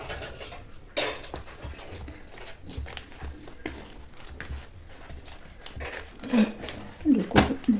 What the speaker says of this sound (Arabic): هانتوما كنزيد الماء غير بشويه وانا كندلك